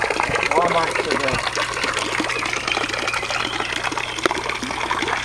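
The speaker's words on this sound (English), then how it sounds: "It's that small little kind of funky pump for the little fountain." A small fountain pump in a backyard aquaponics setup in Hawaii keeps up a steady trickle and gurgle of flowing water while people talk over it.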